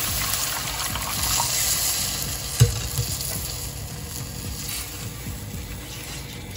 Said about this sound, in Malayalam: ഞാൻ ഇനി കുറച്ച് വെള്ളം ഒഴിച്ച് ഇതിനെ ഒന്ന് ലൂസ് ചെയ്യുക.